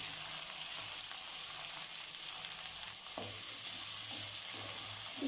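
Tomatoes and green chilies fry in a pan for a Pondicherry-style fish curry, giving a steady close sizzle with soft stirring clicks and scrapes throughout.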